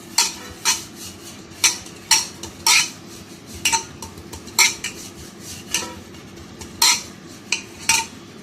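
Butter is spread inside an aluminium baking vessel for a stovetop cake, giving repeated sharp clinks and scrapes of a utensil against metal in an irregular rhythm over a low steady background hum.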